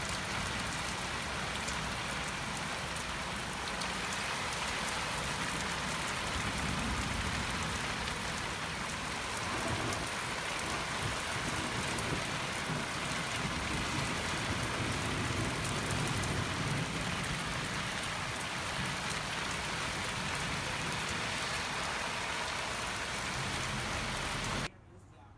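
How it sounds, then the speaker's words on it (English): Heavy rain pours down steadily during a severe thunderstorm with strong winds, a dense continuous hiss of drops on surfaces that stays constant throughout and cuts off abruptly at the end. "So heavy winds and rain, but no tornadoes, not in my city."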